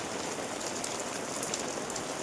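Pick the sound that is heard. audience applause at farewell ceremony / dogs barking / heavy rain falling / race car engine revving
heavy rain falling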